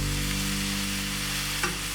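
Boneless chicken cooks in a pan with onion and capsicum, giving a steady close sizzle with a constant hum underneath and one brief clink near the end, with no talking.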